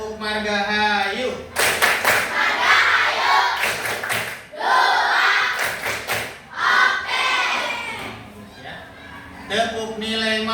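A fifth-grade class performing a rhythmic school clap, sharp patterned clap bursts alternating with loud group chanting by children in a classroom.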